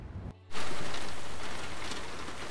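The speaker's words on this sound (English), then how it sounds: "this rain's gonna pass through" Steady, dense thunderstorm rain pours down after a brief moment of quieter ambience, a constant hiss of drops striking a car close by, in the Western Australian Wheatbelt.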